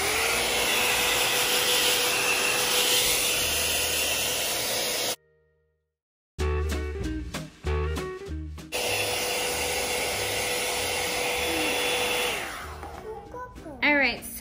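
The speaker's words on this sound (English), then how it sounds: "now we have the blow dryer. Now we have to dry them." A handheld blow dryer drones steadily while Silkie chickens are dried after a bath. It runs loud and continuous, cuts out for about a second, then returns after a few sharp knocks and clatters.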